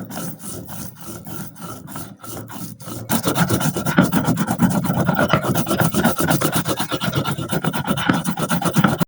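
Stone grinding slab (pata) being roughened by rubbing, a rasping scrape repeated in steady rhythmic strokes, sparser at first and then dense and louder, close up with no talk.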